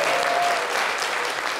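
Audience applause in a crowd: dense, steady clapping at full volume throughout the short stretch, with no voices heard over it.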